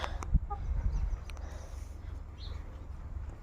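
Backyard hens in a wire-mesh coop clucking softly, a few low bursts early on, then quieter rustling and distant farmyard ambience with no talking.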